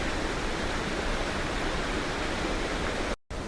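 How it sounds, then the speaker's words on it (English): Guide Falls in Tasmania rushing down through bush, a steady broadband roar of fast-falling water heard close and fairly loud, cut by a brief dropout near the end. "some water falling through there fairly quickly"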